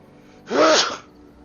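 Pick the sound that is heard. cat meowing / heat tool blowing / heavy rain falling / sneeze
sneeze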